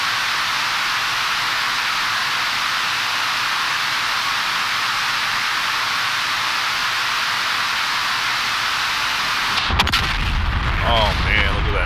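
A steady roar fills a DCS F/A-18C flight simulator game scene until a sudden loud burst of bomb strike explosions hits near the end, followed by rumbling debris.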